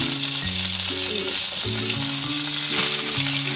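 Tempeh steak pieces heat in a pan with margarine, giving a steady close sizzle and crackle throughout, while someone speaks quietly over it.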